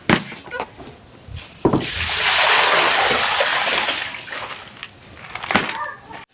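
Water splashes and pours vigorously as grain for ogi pap is washed by hand in a bowl, with a long sustained sloshing stretch framed by sharper splashes and knocks, close and loud.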